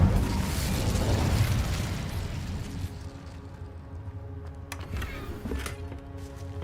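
Incendio fire spell cast in Hogwarts Legacy: a loud, broad fiery burst that swells and fades over a few seconds, followed by quieter steady in-game tones and a few soft pops.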